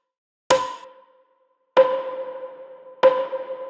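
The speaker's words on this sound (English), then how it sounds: "Then I added this tonal snare." A tonal snare, filtered and drenched in reverb, hits three times at an even, slow pace, each strike sharp at the onset with a ringing pitched tail that lingers; moderately quiet, with no voices.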